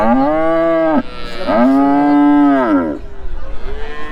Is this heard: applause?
no